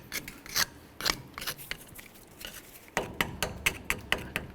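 Rust and rot are scraped and scrubbed with a hand tool from a truck axle housing on a 1999-2013 Chevy Silverado, making close, rhythmic rasping strokes in two bursts separated by a brief pause.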